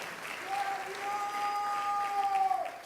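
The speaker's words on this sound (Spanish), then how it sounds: "alguien dele un aplauso al Rey de la Gloria" Church congregation applauding, a soft, distant wash of clapping beneath a held sung or sustained tone, fairly quiet throughout.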